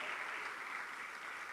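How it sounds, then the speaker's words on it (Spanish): A church congregation claps its hands together in a steady, dense patter of applause that carries on without a break from start to finish, with no voices standing out. "Démosle fuerte las palmas al Señor, hermano, los que entendemos esa revelación."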